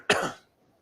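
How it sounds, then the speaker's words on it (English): A single sharp cough bursts out, loud and close, then fades quickly into near silence. "Apart from it's making us cough."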